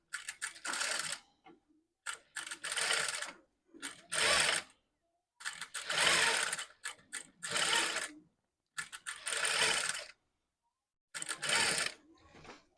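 A sewing machine stitches a blouse in repeated bursts, each a second or so of rapid mechanical whirring and clatter, separated by brief silences, close and clear with no talking.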